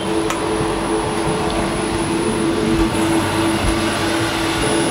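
Four MTU 2,600 hp diesel engines running in the engine room of a Pershing 140 yacht, a loud, dense, steady drone with a constant hum throughout.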